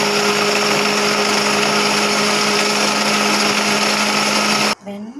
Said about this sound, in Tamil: இதை ஒரு மிக்ஸி ஜாருக்கு மாற்றி ஒரு ஓட்டு ஓட்டி கொண்டு வந்துடலாம்